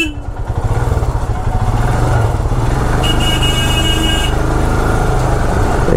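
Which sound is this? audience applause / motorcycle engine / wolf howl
motorcycle engine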